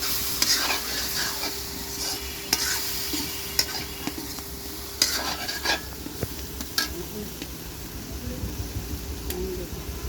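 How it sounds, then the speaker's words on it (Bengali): Potatoes and tomatoes fry in a pan as they are stirred for a home-cooked fish curry, a constant sizzle broken by occasional scraping clicks of the spoon against the pan. "আলু টমেটো দিয়ে আর একটু কষিয়ে তারপরে মাছ ঝোল দিয়ে মাছ দেওয়া হবে।"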